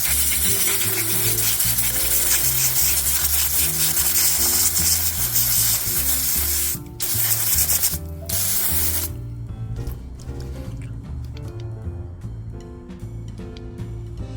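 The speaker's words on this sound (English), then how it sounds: "let's test that out with this pressure washer" A pressure washer blasts water at a PX6-rated EDC flashlight, a loud continuous hiss and spatter with two brief pauses before the spray thins and fades near the end.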